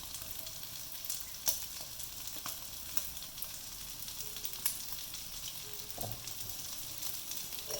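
Mushrooms and mustard green stalks stir-frying for a Malaysian fried rice vermicelli dish, a soft continuous sizzle with a few light scrapes and taps of the spatula, fairly quiet and with no speech.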